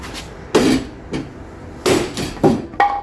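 A small sledgehammer strikes a part on a Vauxhall Cavalier Mk2, several heavy metallic blows landing close in an uneven rhythm, with short quiet gaps between them.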